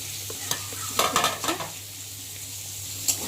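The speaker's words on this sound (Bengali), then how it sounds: "দিয়ে একটু পেঁয়াজটা ভালো করে ভাজা ভাজা করে নেব" Chopped onions and green chillies frying in oil in a pan hiss continuously while a utensil scrapes and stirs in a quick cluster of clinks, heard up close with nobody speaking.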